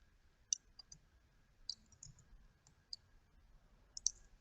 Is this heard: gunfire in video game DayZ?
no